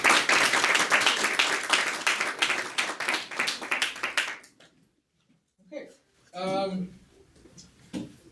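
Applause for dedicated public servants at a town board meeting: a room of people clapping loudly and steadily for about four seconds before it dies out, followed by a brief spoken word and some shuffling.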